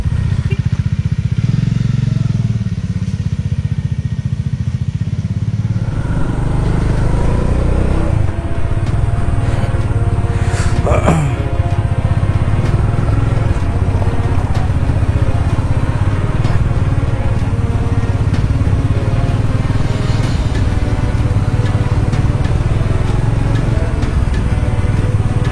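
A motorcycle loaded with camping gear at Debagram Forest near Kolkata starts up with a clatter, then its engine idles and revs loudly and steadily close by as it sets off.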